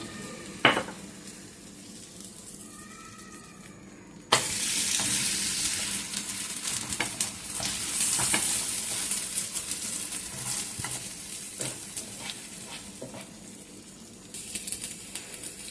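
Masala bread toasting in oil in a pan, a steady close sizzle that jumps louder midway as the slices are flipped, with light scraping and clinks over a continuous frying hiss.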